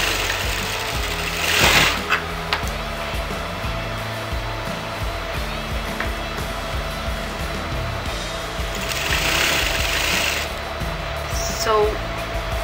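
Sewing machine stitching fabric for a circle skirt lehenga border, a steady close mechanical whir with rhythmic needle chatter that pauses briefly and resumes, amid some background noise.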